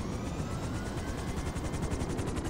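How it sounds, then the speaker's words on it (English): A helicopter in GTA V flies close by with a steady, rapid rotor chop that pulses evenly throughout, loud and continuous with no talking. "What is this, a helicopter from Dune?"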